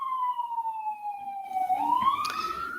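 A police siren wails in a city at night, a long falling then rising tone that grows louder and nearer, with traffic rumble building underneath.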